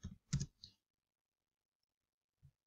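A quick burst of a few keystrokes on a computer keyboard, then a pause and one more key tap, close and otherwise quiet.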